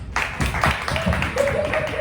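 Several people clap their hands in a loose, uneven burst of applause lasting about two seconds, fairly close, with a voice murmuring faintly underneath.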